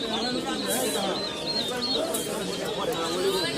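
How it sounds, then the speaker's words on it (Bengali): Pigeons at a busy Bangladeshi pigeon market at Zinjira coo and chirp in a thick overlapping chorus close by, under steady talking from people in the crowd. "এটা একটি হাই ফ্লাইং একটি কবুতর"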